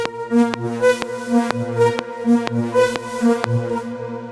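Animated vocoder effect on a synth in a melodic techno loop, a steady rhythmic pattern of short pulsing chords with sweeping, shifting harmonics, played alone with no talk.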